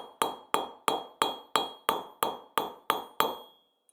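Ten evenly spaced hammer blows ring on scrap silver sheet being worked at its edges, each a sharp metallic strike with a brief ringing decay, close and loud with no talking.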